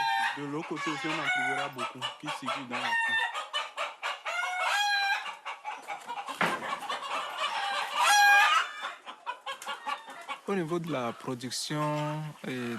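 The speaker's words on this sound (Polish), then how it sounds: "Tu hodujemy typowo afrykańskie kury." African chickens cluck and squawk busily nearby in Benin, with a rooster crowing, while a person talks over the birds in Polish.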